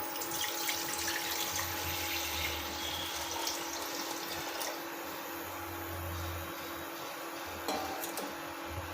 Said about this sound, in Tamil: நான் வந்து ஒரு ரெண்டு சொம்பு தண்ணி ஊற்றுறேன் கொதிக்க வச்சுக்கலாம்